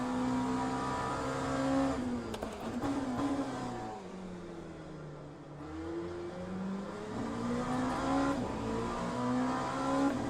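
Oreca LMP2 07 prototype race car engine in the Le Mans Ultimate racing game, revving steadily with rising and falling pitch as it accelerates and brakes through corners, a continuous loud whine with no voices.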